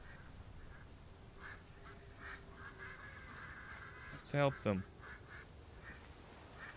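A duck in World of Warcraft: Dragonflight gives a short burst of a few quacks near the middle, over steady game ambience and background music, with someone talking around it.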